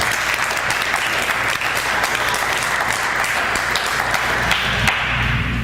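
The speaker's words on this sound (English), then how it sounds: "how about a round of applause?" Sustained applause from a crowd at a conference fundraising meeting, dense steady clapping filling the whole stretch at an even, fairly loud level.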